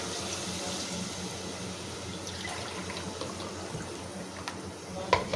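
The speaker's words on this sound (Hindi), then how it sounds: "अब हमारा मसाला भून चुका है, अब हम इसमें शोरबा डालेंगे" Broth streams steadily into roasted mutton curry masala in a pot, a continuous liquid pour at close range with a few sharp clinks toward the end.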